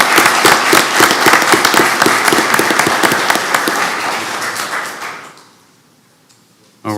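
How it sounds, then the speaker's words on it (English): An audience at a county commission meeting gives a round of applause for veterans. The clapping is dense and sustained for about five seconds, then trails off, and a voice resumes right at the end. "let's give them a round of applause"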